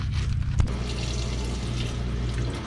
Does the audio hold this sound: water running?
yes